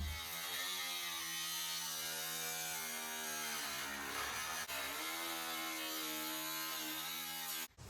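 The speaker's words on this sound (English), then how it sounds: "I am attempting the grinder again" Angle grinder cutting into a vintage caravan panel, a loud, continuous high whine with a strong pitched drone that holds for the whole stretch, dipping briefly before cutting off at the end.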